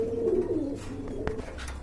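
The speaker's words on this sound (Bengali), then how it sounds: "আর এখানে রয়েছে একজন সিরাজি কবুতর" A red Sirazi pigeon coos close by, a short soft throaty call over a faint background murmur, with a brief sharp tap partway through.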